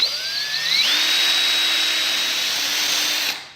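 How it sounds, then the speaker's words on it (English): A power drill boring a hole in aluminum while fitting a brake snake wire, the motor whining up in pitch, then a steady loud grinding whir that cuts off abruptly. "I'll just drill a little hole in there"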